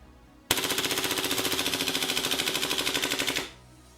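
An Umarex HK MP7A1 gas blowback airsoft gun fires a sustained full-auto burst of about three seconds, loud and close, with sharp rapid clacking shots in an even rhythm, then stops abruptly with no talk.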